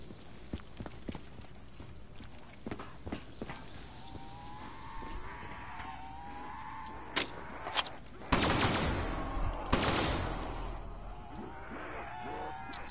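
Gunfire from upgraded guns in a PS4 video game: scattered sharp shots at first, then louder rapid bursts of firing midway, all fairly faint and distant.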